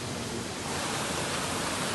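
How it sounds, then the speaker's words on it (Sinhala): A small stream in a village flows in a steady, close broadband rush of water, continuous and even throughout with no voices. "ඇලක් ගලාගෙන යනවා"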